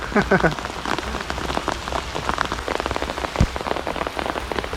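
Rain falls steadily over a rice field while fish are being trapped, with a constant patter on surfaces and scattered drops up close. No one speaks.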